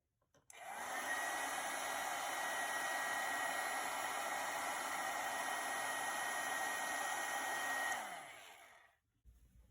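Heat gun melting white embossing powder on a stamped card, a steady loud blowing whir that switches on, runs evenly for about seven seconds, then cuts off and winds down.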